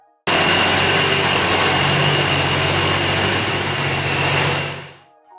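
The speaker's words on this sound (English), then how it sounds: "The Big Bug 747 registers a soft whine before it roars when throttled, but it ultimately comes back to the chugging sound" A Big Bug 747 engine runs at a loud, steady level, a dense roar with a thin whine on top and low chugging beneath, close up, cutting off near the end.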